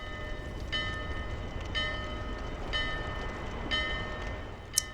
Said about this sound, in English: Ringing this bell will, as you can see, bring the ghost ship into port.